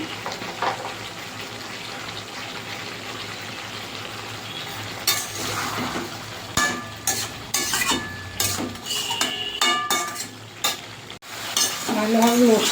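Fried bitter gourd stirred into sautéing mixed vegetables with ginger paste and radhuni paste, a steady sizzle under repeated scraping and clattering spoon strokes that grow louder and busier toward the end.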